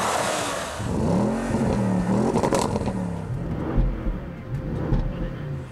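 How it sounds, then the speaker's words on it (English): A 2014 Audi RS 7 with a twin-turbo 4-liter V8 accelerates, its engine note rising and falling through sweeping revs, close and fairly loud with some road noise. "Under the hood, the RS7's twin-turbo 4-liter V8 developed 560 horsepower with 516 pounds-feet of torque"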